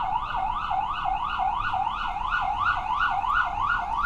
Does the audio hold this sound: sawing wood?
no